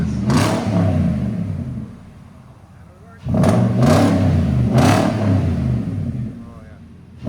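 A 2019 Nissan Titan 5.6L V8 with true dual Borla S-Type exhaust revs close up in loud bursts: a long rev that settles to idle, then three sharp throttle blips in quick succession.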